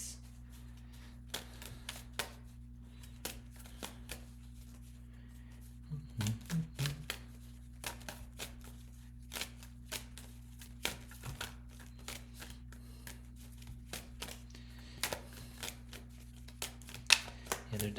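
Tarot cards are shuffled close by in quiet, repeated soft riffles and snaps, faint and irregular over a low steady hum.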